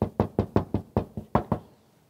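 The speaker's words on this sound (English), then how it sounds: "you're gonna be able to hopefully hear the difference soundproofing makes simply by knocking on the vehicle" A knuckle raps on the door panels of a new Land Rover Defender 90. Eight sharp, close knocks come at an even pace, each with a short hollow ring, and then the sound stops.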